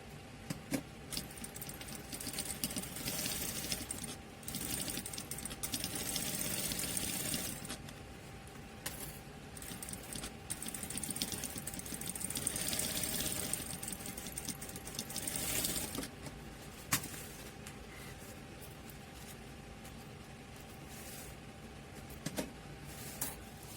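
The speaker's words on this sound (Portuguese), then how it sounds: "vou passar uma costurinha aqui agora. Costurinha reta." A sewing machine runs a straight stitch through fabric for a waterproof eco diaper bag, a steady whirring with bursts of speed and brief pauses, close and continuous with faint rattles and clicks.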